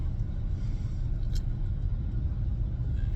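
A car on the road during a drive home from work, with a steady low engine and tyre rumble continuous throughout, close and even, with no talk.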